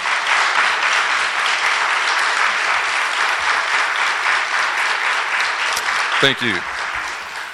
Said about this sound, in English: Let's give them a round of applause if you don't mind for being here.